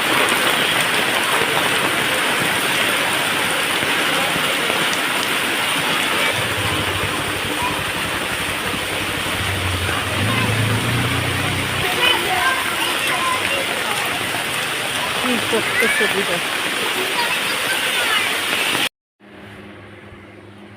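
Heavy rain pours down steadily as a dense, loud hiss that runs without a break for about nineteen seconds, with a low rumble and voices underneath, then cuts off abruptly.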